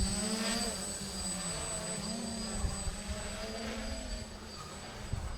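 A DJI F450 quadcopter drone with a 360 mm frame, running on a 4S lipo, flies in GPS mode on a windy day, giving a steady buzzing motor whine whose pitch wavers as it holds position at a moderate distance.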